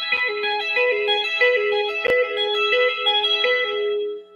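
Electric guitar tapping on a clean setting with echo and chorus, a fast, even run of bright ringing notes repeating in a steady pattern, loud and close, with a sharp click midway and a fading tail at the end.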